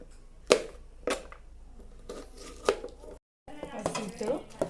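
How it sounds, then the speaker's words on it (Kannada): Green chillies being chopped on a board for bajji, with a few sharp, separate knife knocks spaced about a second apart against quiet kitchen background. "ಮೆಣಸಿನ್ಕಾಯಿ ಹಚ್ಕೊತೀನಿ."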